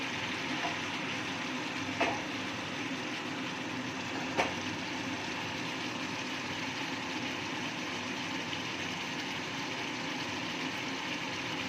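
Tel koi fish cooking in oil in a pan gives a steady, even sizzle that runs unbroken throughout, with a couple of faint clicks over the frying hiss.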